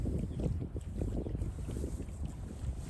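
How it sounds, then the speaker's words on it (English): Strong wind at a lake, buffeting the microphone with a continuous low rumble and gusty roar that stays loud and steady throughout. "The wind's so bad"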